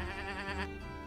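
A goat bleats in a video game as the animals buck and wreck the remains of a chariot, a short wavering cry heard close and alone.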